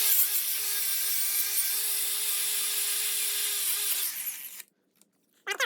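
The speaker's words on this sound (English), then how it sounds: "I was scraping this off" A steady, loud scraping hum from a tool working deposits off an Audi VW 2.0T engine part, continuous for about four seconds before it winds down and stops, followed by a short burst as it starts again.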